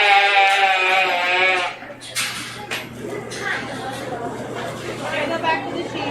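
Sheep bleat loudly and repeatedly at an agricultural fair sheep show, a long wavering call up close followed by more scattered bleats, with crowd chatter and an announcer's voice running underneath.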